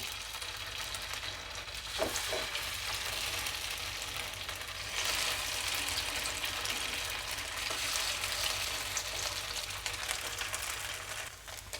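Ghee sizzling in a hot pan while mor kali fries, a steady crackling hiss that continues throughout with small stirring bumps, close and moderately quiet.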